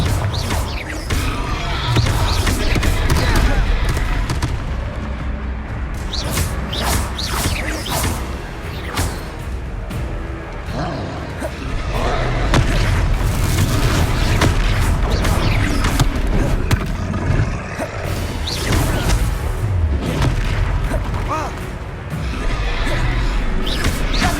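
Spell blasts and booming impacts from combat in the video game Hogwarts Legacy, loud and continuous through a dense mix of whooshes, crashes and game music, with occasional voice lines.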